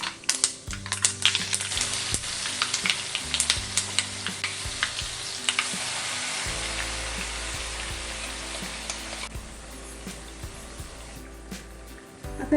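A ground spice paste hits hot oil with mustard seeds and cumin in a kadhai, giving a steady loud sizzle with crackling and stirring scrapes, then settling to a calmer fry under a low background hum.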